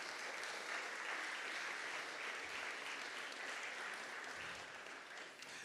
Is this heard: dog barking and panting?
no